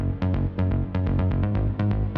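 A thick synth bass plays a short, punchy rhythmic pattern of repeated notes, loud and alone.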